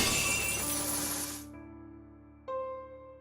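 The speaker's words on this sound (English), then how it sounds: "The chains are broken." Chains shattering in the Fate/Stay Night video game: a loud, bright crashing burst fades into a ringing tonal tail, and a second crisp metallic chime strikes near the end.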